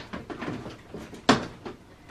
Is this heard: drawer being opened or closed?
yes